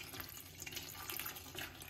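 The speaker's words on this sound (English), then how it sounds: "This is the water from a kettle." Water from a kettle runs steadily into a sink while something is rinsed, a continuous close splashing flow with no talking.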